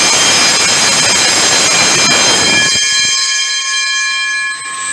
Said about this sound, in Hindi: ये पंप चलना शुरू हो जाएगा और ये गांग भी बजेगी क्योंकि प्रेशर इसका कम होगा